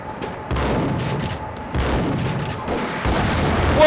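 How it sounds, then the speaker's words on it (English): Grenade blast in the Max Payne video game, heard as heavy booming bursts with gunfire, several loud low thuds at about half-second, 1.7 and 3 seconds amid constant noisy in-game action. "That was a grenade."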